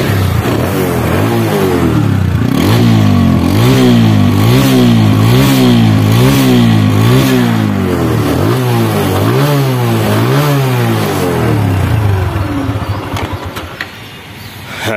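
A second-hand TVS Apache RTR 160 motorcycle engine revs hard and close. Loud rises and falls repeat in a steady rhythm throughout, then ease off near the end, with no voices.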